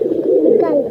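A pigeon gives a soft, close, low-pitched coo that swells briefly and stands alone.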